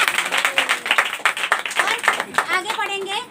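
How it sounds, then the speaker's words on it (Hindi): Congregation at a Hindi-language church service claps hands in a quick burst of rhythmic applause, mixed with shouting voices and a rising cheer near the end. "ताली बजा दीजिए।"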